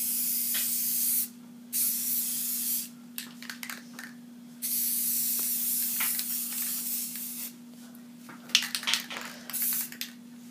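Paint sprays onto a wooden flatland skimboard in repeated close hissing bursts of varying length, separated by short pauses, over a faint steady hum.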